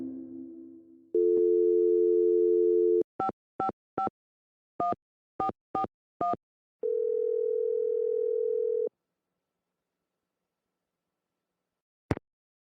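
A telephone dial tone sounds in a Nancy Drew detective game, a steady tone followed by a series of short keypad beeps, then a longer tone before a brief click and silence.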